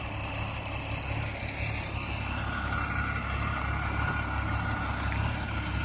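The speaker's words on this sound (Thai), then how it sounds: "อันนี้เสียงนั้นเป็นรถไถนาครับนะรถไถนาครับ" A farm tractor's engine runs steadily in an outdoor work setting, a constant low rumble with a faint higher whine, heard near and unbroken throughout, with no talk.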